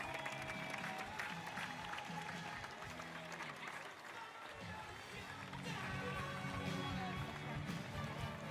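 A stadium crowd at the Invictus Games in Düsseldorf cheers and applauds loudly for a Romanian sprinter at the men's 100 meters, a sustained roar with the announcer's voice mixed in.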